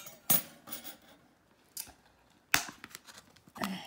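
Scissors cutting out scrapbooking pieces from paper, a few separate crisp snips and rustles spaced across a few seconds, close and moderately loud with no talking.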